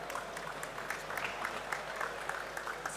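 Audience applause at an on-stage conference talk, a quiet, even patter of many hands clapping, somewhat distant and steady throughout.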